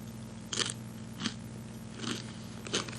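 Crisp bites into UK snack foods sound as four separate crunches, evenly spaced and close to the mic, over quiet room tone with no talking.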